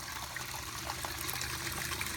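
Water steadily trickling and splashing from a leak at a pond, a continuous close bubbling dribble throughout.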